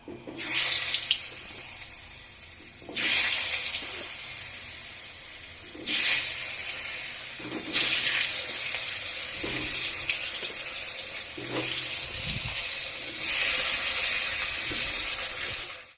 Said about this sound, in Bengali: সামান্য একটু নুন হলুদ দিয়ে আমি আর কি আলুগুলো একে একে করে ভেজে নেব